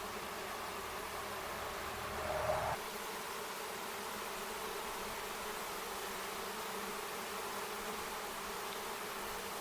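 A caught honey bee swarm buzzes at the hive entrance, a faint steady hum of many bees continuing throughout, with a brief louder rustle near the start.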